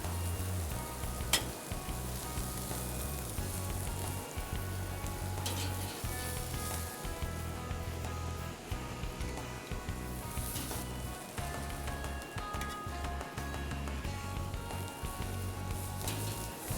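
Hamburger patties frying in a pan, a loud, dense, continuous sizzle with crackling close by, steady throughout and with no talk over it.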